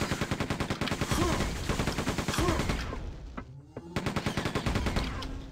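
Rapid, rhythmic hyperblaster fire in Quake 2, loud and continuous, with a brief pause before the firing resumes under game sounds.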